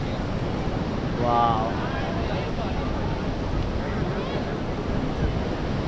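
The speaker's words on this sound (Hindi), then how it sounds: "सबसे बड़ी बड़ी लहरें देखिए वो कोने पर आ रही" Big sea waves crash and surge at Bandra Bandstand in Mumbai during a storm, a steady roaring surf with wind buffeting the microphone while someone talks and exclaims over it.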